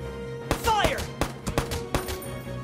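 Gunfire in Valkyria Chronicles 4 video game, a rapid string of about half a dozen sharp, close shots spaced unevenly over a brief battlefield din, with a short voice cry mixed in.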